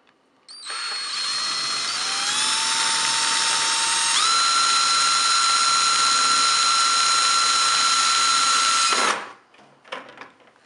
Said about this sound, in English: got the pilot hole done, using the bigger drill bit now.